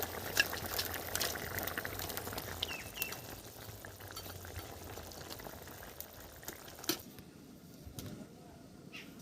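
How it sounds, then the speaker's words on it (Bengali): Fish curry broth bubbling at a steady boil in a pot, a dense continuous seething with scattered pops, close and moderate in level before dropping quieter near the end. "ঝোল ফুটে গেছে, মাছ দিয়ে দিচ্ছি।"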